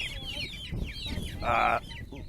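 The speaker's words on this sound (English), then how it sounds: "we are moving our chicks from the brooder out into the grow pens, or what we call the chicken tractors" Young chickens in a pastured poultry setup, moved from brooder to grow pens, give a quick burst of peeping and clucking calls, with one louder, harsher squawk near the end, close and clear.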